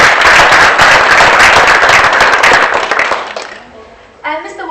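Loud audience applause at a low-tech innovation prize-giving ceremony, dense clapping for about three seconds before tapering off, then a voice starts speaking near the end.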